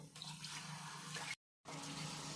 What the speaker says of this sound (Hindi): अब हम कढ़ाई में थोड़ा पानी डाल देंगे